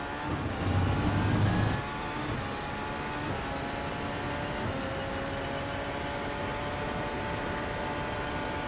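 Porsche 919 race car lapping Road America in the iRacing sim, a faint steady high engine whine holding under acceleration with a brief louder burst near the start, no talk.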